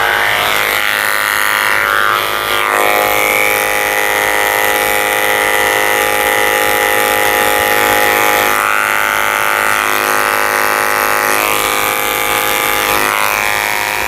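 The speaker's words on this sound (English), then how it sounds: "Shaving from the corner of his eye to his ear." Electric clippers buzz continuously at close range while shaving a toy poodle's face during a summer grooming cut. The drone holds steady throughout, with slight changes in tone as the blade moves over the fur.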